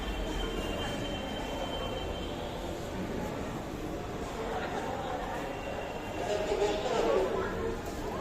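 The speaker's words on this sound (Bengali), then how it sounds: "আমরা এখন মেট্রোতে আসছি, বসুন্ধরা সিটিতে যাব মেট্রোতে।" A Dhaka metro train rumbles along with a steady, dense roar, wheels and rails grinding, loud and close, swelling slightly near the end.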